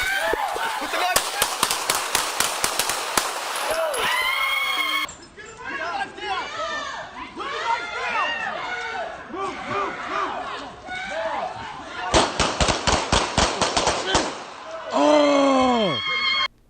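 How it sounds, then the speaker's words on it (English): Police gunshots during a chaotic confrontation with a knife-wielding man, a rapid volley of about ten sharp, loud, close shots, with another burst of shots before and amid frantic shouting voices. "officers did hit him with 10 shots"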